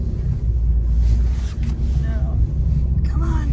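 A car without four-wheel drive struggles on a snowy slope, its engine droning low and steady as the wheels spin, with wind buffeting the microphone and a voice talking over it.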